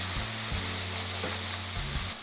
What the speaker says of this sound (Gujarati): હવે લસણ મરચાંની પેસ્ટ નાખીશું તેને થોડું સાતડી દઈશું